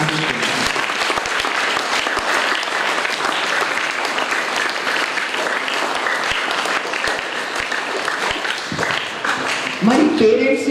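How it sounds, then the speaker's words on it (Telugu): An audience at a Children's Day event for special children applauding, sustained dense clapping from many hands filling the room, loud and steady, with a voice and shuffling near the end. "చప్పట్లు కొట్టాలని ఆశిస్తున్నాను"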